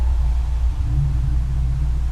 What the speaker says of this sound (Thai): สตาร์ทด้วยซูเปอร์สปอร์ตคาร์